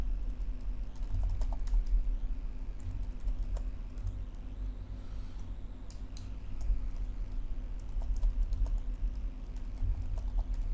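Someone types a password on a computer keyboard, a quick run of light, irregular key clicks over a steady low background hum.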